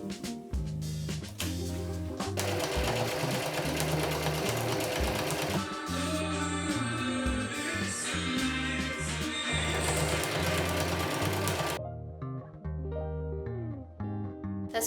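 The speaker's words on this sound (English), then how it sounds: "stitch all the way along the edges, leave maybe about 1 centimeter, go all the way down where you pinned, around the bottom, and up the side again" Sewing machine stitching along the pinned fabric edges of a handmade book pouch; close, steady motor runs with short pauses and changes in speed, stopping near the end, with no talking.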